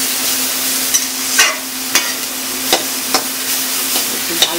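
Dal bori lentil dumplings frying in oil in a pan, a steady soft sizzle punctuated by several sharp stirring clicks and scrapes at irregular intervals, close and alone with no voices.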